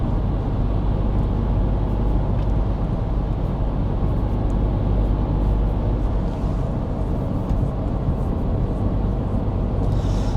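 Steady low rumble of a car driving along a road, heard from inside the cabin, a constant engine and road drone with no talk.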